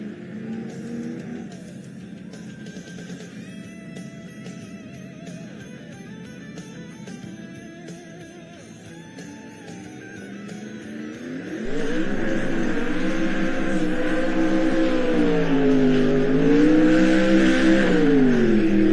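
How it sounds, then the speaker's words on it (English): A 1995 BMW 325 race car launches off the line, its engine note climbing loud and close through rising revs, with a steadier roaring second half after a jump in volume. "Coming out, it is 1995 BMW 325"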